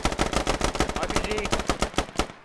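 Automatic weapon fire in the video game Squad during a battle for a mosque, with rapid, loud, close bursts of evenly spaced shots that run almost continuously before trailing off.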